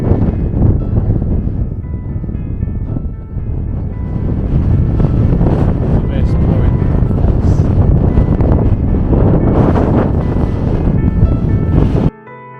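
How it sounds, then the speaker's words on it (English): Strong wind buffets the microphone at a mountain campsite, a loud, continuous roar with gusty swells, until it drops away abruptly near the end. "It's very blowy."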